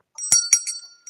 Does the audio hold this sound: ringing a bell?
yes